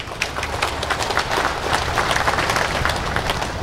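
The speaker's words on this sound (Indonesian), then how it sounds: "boleh tepuk tangan untuk karate" A large crowd claps steadily at an Indonesian sports center inauguration in Bekasi in 2011, a dense, continuous wash of applause filling the space with no voices standing out.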